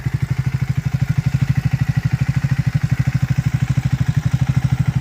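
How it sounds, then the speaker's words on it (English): A Triumph Speed 400 motorcycle engine idles close by, a steady, deep, thumpy pulse of rapid even beats with no voices over it. "The Triumph have done a really good job on this to make it sound really nice and thumpy"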